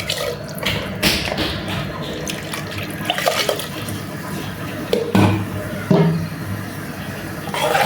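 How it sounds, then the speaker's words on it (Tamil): Water is poured into a thick cooking masala for bun parotta salna, making splashing, trickling liquid sounds with a couple of louder pours and clinks, and no talking. "கொஞ்சமாக தண்ணி கலந்து ஊற்றிக்கலாம்"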